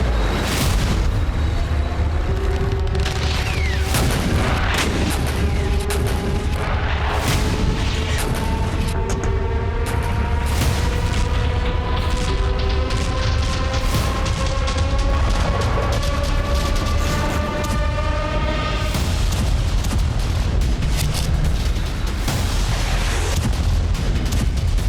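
Repeated heavy booms and blasts from tank battle explosions destroying old Soviet-era Russian T-62 tanks, a dense, continuous roar of detonations and gunfire with rising whining tones over the top and no speech.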